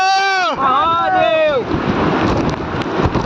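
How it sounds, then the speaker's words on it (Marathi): Voices call out briefly, then a steady, heavy roar of a waterfall in the Sahyadri mountains, buffeted by gusting wind, fills the rest, close and loud. "हा वॉटरफॉल जोरात पडतोय खाली वाऱ्याने परत."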